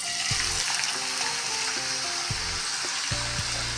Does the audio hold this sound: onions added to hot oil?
yes